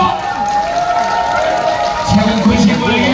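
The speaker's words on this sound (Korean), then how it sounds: "자, 박수 주시고요." Audience applause and cheering at a Jinju folk bullfighting contest, an exhibition bout between retired fighting bulls, heard as a steady crowd wash under an announcer talking over the PA.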